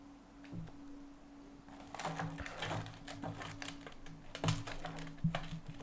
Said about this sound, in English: I'm just typing some things.